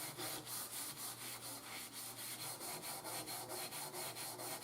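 An SOS pad scrubs baked-on food off a metal baking sheet in quick, regular back-and-forth strokes, a close, rhythmic abrasive scratching with no talk.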